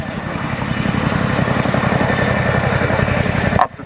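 RAF Chinook twin-rotor helicopter hovering at an air show, a loud, close, steady rotor thump and engine roar that cuts off abruptly near the end.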